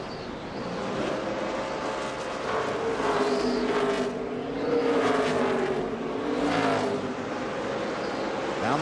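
NASCAR stock cars roar around Richmond on the last lap of the race, a continuous loud engine drone with swelling passes and shifting pitch, no pauses throughout.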